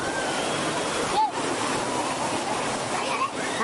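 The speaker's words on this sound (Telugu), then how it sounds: "this is water falls కలాపూర్" The Kamulapur waterfall near Manuguru roars as a steady, dense rush of falling water close by, filling the whole clip with broad continuous noise and only slight dips.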